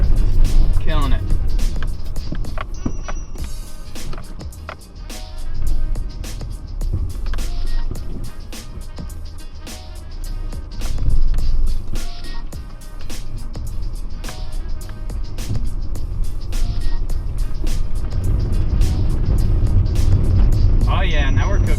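A car engine runs steadily near the microphone during a K-turn on a flatter stretch of road in Iceland, its tone rising and dipping through a downshift, with people talking over it almost throughout.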